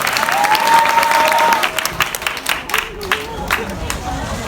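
Audience applause for a student dance performance, dense clapping close and loud, with a voice and crowd babble mixed in before the clapping thins into scattered claps.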